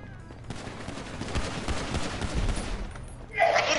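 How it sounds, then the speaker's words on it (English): Gunfire in Grand Theft Auto Online crackles in rapid, dense bursts like a fusillade, moderately loud and continuous for a few seconds before a brighter burst near the end, with a voice chattering faintly underneath. "when I try to shoot someone, it takes, like, 10 shots"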